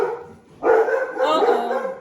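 Pet dogs bark indoors in a home kitchen, a sudden close, loud bark followed by a sustained second bark or yowl, filling the short moment.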